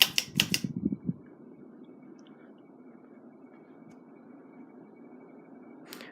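A 1982-1984 SMC Laguna polished brass ceiling fan running on high: a few sharp clicks at the start, then a faint, steady motor hum and air whoosh that continues alone.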